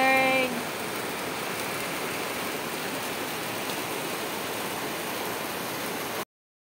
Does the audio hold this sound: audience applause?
no